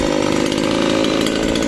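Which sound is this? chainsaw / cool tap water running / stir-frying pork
chainsaw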